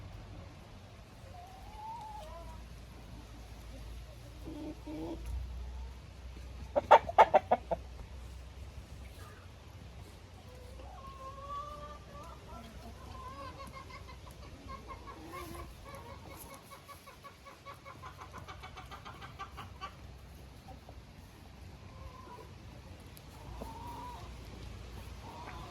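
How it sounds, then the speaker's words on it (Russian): Young rooster clucking softly in a village yard, scattered low calls spread over time with a brief louder burst of clatter, faint background ambience throughout. "Это молодой петушок."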